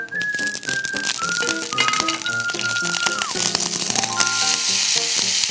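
Seasoned seaweed stems sizzle in a frying pan lightly coated with cooking oil, giving a steady, close crackling hiss that runs throughout, with clear whistle-like tones layered over it.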